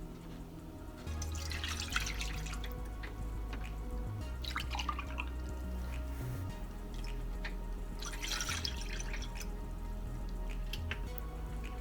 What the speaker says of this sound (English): Then add 2 cups of apple cider.